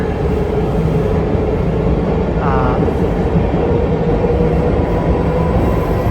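Driverless M3 metro train running in Milan, a loud, continuous rumble of the moving carriage with a brief squeal partway through.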